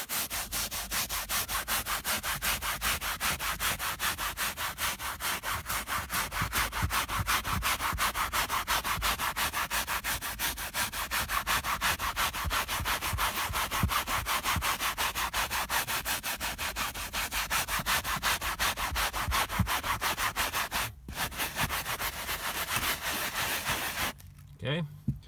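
A brush scrubs wet upholstery in fast, steady back-and-forth strokes, a loud, close, rhythmic rasping that runs almost unbroken before pausing near the end.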